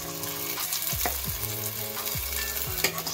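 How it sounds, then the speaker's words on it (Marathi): Ground masala frying in oil for misal, a close, continuous sizzle with a few spoon strokes, set under a looping background melody. "मसाला चांगला तेल सुटत तोपर्यंत आपण भाजून घेऊया"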